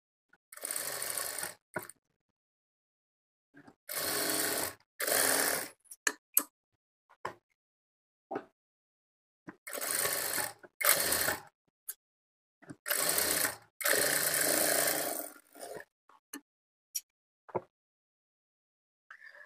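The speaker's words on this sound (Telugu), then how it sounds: "ఇదే స్టిచ్ మీద ఇంకొక స్టిచ్ వేసుకోవాలి ఇదే విధంగా రెండో డాట్ దగ్గర మూడో డాట్ దగ్గర కూడా స్టిచ్ చేసుకోవాలి" Sewing machine stitching the front of a blouse in short bursts, each run of fast needle clatter starting and stopping with brief pauses and faint ticks between, close and clear with no talk.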